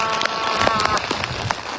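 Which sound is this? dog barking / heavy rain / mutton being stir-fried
heavy rain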